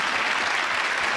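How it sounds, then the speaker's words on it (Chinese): Studio audience applause on a Taiwanese variety show, a dense steady burst of clapping at moderate volume, with no talk over it. "哇，掌声鼓励！"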